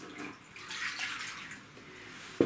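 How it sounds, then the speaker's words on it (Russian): A glass of water is poured into a metal roasting pan holding meat for pork roast, a soft, splashy trickle running for a couple of seconds at close range, quiet and without talking. "Я перекладываю в противень и наливаю стакан воды."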